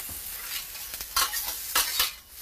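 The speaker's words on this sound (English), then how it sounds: "jalapenos onto the grill to get those nice and hot" Salted, peppered jalapenos with a little oil sizzle on a hot grill, a close crackling hiss broken by several louder scraping tosses.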